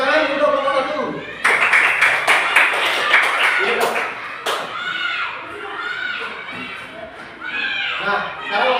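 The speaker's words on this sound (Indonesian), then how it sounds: "Tepuk tangan untuk kelompok 1." A classroom of students claps in a lively burst of applause for a group, sharp hand claps and thumps mixed with chatter and voices, fading into continued talking.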